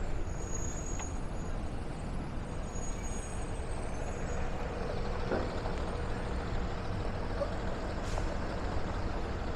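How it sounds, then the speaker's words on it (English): Street ambience on a busy Brooklyn avenue with diesel school buses idling and moving nearby, a constant low engine rumble, a soft air-brake hiss and a faint high tone drifting over the traffic noise. "if you hear a lot of diesel engines, it's all these school buses."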